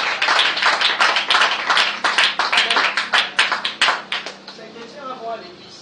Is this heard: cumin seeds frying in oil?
no